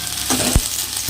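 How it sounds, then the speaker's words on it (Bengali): Ginger-garlic paste is stirred and fried in a hot pan. Steady close sizzling runs throughout, with a couple of sharp knocks from the spoon against the pan. "দিয়ে ভালো করে আমি এটাকে আবার কষে নিচ্ছি"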